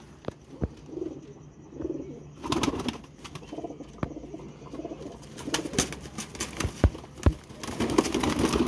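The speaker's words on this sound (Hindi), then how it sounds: "ये है जी दोस्तों इंडियन कबूतर।" An Indian pigeon coos softly in repeated low phrases, close by, with scattered sharp knocks and taps around it and no speech.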